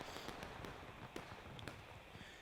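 Distant musket gunshots in the video game War of Rights: scattered sharp cracks pop irregularly over a steady rumbling battlefield ambience, some shots nearer and louder, others faint and far off.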